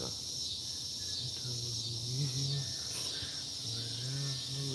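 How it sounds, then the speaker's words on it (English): A constant high-pitched buzzing drone of cicadas fills the background, steady and fairly loud, with faint low sounds beneath. "Cicadas, yeah, they get ridiculously loud, man."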